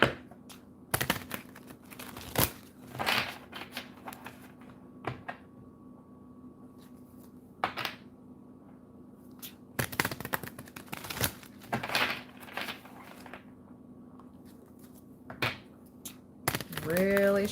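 Intermittent crisp, riffling bursts of tarot cards being shuffled, clustered in short flurries with pauses between, close by over a faint steady hum.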